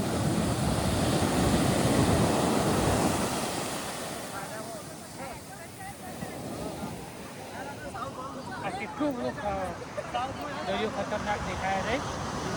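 Sea waves roll at a beach at Poovar in Kerala, a loud, broad wash of surf mixed with wind buffeting, while voices talk over it in the second half.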